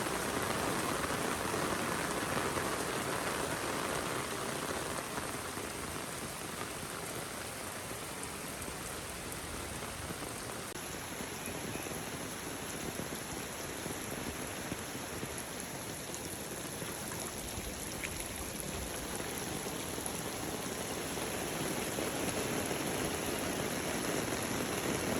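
Heavy rain pours down on a flower farm garden during a flood with over 200 mm of rainfall, a dense, even hiss of falling water and runoff that holds steady and fairly loud throughout.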